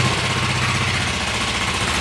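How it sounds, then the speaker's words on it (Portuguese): A Honda CG motorcycle engine runs at a steady idle close by, with a loud, even, rapid chugging throb that holds without a break. "Como é que eu desligo a moto agora?"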